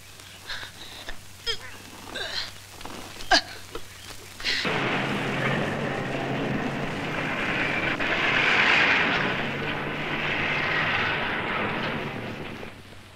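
A small single-pilot plane flies in a 1981 film scene, its engine rising into a steady, loud droning roar after a few seconds of scattered sharp noises.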